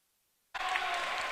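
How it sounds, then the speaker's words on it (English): Sudden burst of applause and clapping from spectators at a high school boys swim and dive meet, starting abruptly after silence and continuing as a dense, sustained wash of claps. "Love hearing both sides clapping like all get out for him."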